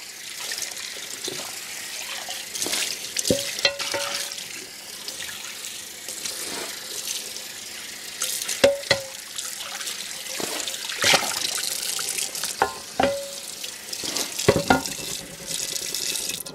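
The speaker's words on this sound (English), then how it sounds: "Rinse it out." Tap water runs steadily into a sink as a cast iron pan is rinsed, with a continuous splashing stream broken by clanks and sharper splashes as the pan is moved under the faucet.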